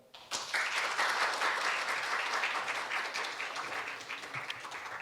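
An audience at a Korea University public hearing on Anam-dong campus town urban regeneration bursts into applause for a professor's presentation. The clapping starts abruptly after a short quiet moment and stays full and sustained, fading only slightly.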